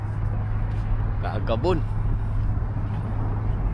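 Cars passing on a highway make a steady, moderately loud roadway roar and low engine hum, with a brief voice rising over the traffic midway.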